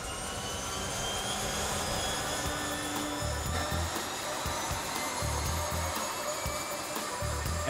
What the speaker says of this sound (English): It's nice to hear that sound of that engine running, and especially when everything's working like that.